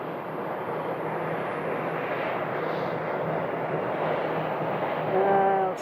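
An airliner taxis at Phoenix Sky Harbor Airport, a steady jet engine whine heard from a moderate distance. The engine swells slightly louder near the end, with a tonal whistle rising in.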